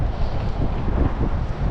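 Strong wind buffets the microphone aboard a small fishing boat heading into a headwind near a channel, a steady low roar with gusty fluctuation throughout and no voices.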